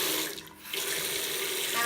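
Lukewarm tap water runs into a sink to wet a makeup sponge, a close, steady splashing stream that dips briefly, then flows evenly again.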